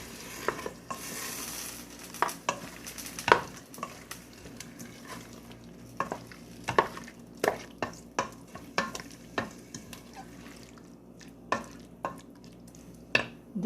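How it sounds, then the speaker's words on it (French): A cinnamon stick and salt fried in a pan, with a soft continuous sizzle under repeated sharp scrapes and clinks of a utensil stirring against the pan, close and fairly quiet, no talking. "نضيفوا العود تاع القرفة، نضيفوا الملح كذلك ونقليه"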